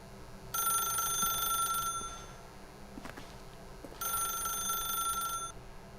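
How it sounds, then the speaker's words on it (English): A telephone in The Stanley Parable rings with two long electronic ring bursts separated by a pause, bright and clear over a quiet room tone. "then pick up the phone."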